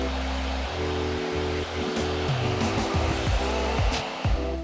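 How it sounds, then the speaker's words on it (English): Hair dryer blowing on damaged hair being restored, a loud close steady whoosh with a humming motor tone that wavers as the airflow shifts, running continuously without talk. "Okay, so we're gonna blow dry just to see what it looks like."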